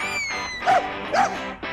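Tiggy, a dachshund, gives two sharp, close barks amid whiny, high-pitched yelping, with a short trailing whimper at the end.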